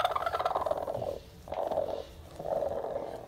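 A broody Aseel hen sits on a clutch of eleven eggs, giving repeated low, purring clucks in three drawn-out bursts with short pauses between, close by and steady, with no talking.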